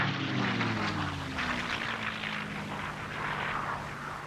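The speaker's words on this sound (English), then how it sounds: "they came under attack from low-flying US torpedo bombers" Low-flying World War II US torpedo bomber aircraft, a loud continuous propeller-engine roar with a slowly falling pitch as it passes close by, with no talking.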